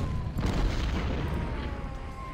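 Cannon fire in a war strategy video game, a dense continuous rumble of heavy booms with no clear separate shots, steady and loud throughout.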